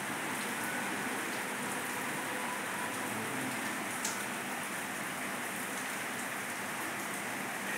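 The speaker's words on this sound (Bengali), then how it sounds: "বেশ ওয়েদারটা সমানে চলছে বৃষ্টি, বাইরে তো বেরোনোই যাবে না" Steady rain falls outdoors through the whole stretch, a dense continuous patter on surfaces at an even loudness, with no speech.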